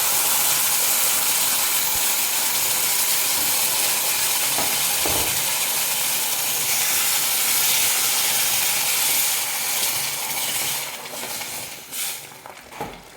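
A steady, loud hiss as boiling water is poured onto semolina for kesari, with faint stirring clatter, the sizzle easing off toward the end.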